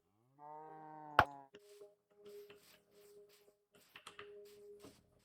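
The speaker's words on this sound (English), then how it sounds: "Cows!" Cows mooing in the Minecraft video game: a long, clear low moo opens, followed by a sharp pop and then several shorter moos scattered over the rest, fairly close and quiet.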